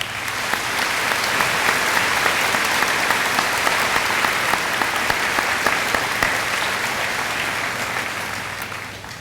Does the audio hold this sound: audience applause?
yes